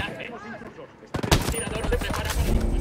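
Sniper rifle fire in the video game Ghost Recon Breakpoint: after a quieter, murmuring stretch a sharp loud shot bursts out, followed by dense crackling gunfire and a busy, noisy battle that lasts to the end.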